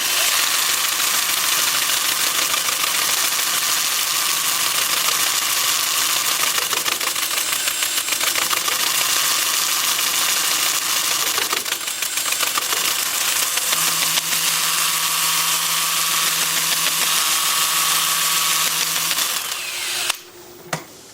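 A Sandoflex sander presses against a live-edge rectangular wooden bowl spinning on a lathe at about 400 RPM, giving a loud, steady whirring hum throughout that breaks into a few clicks at the very end.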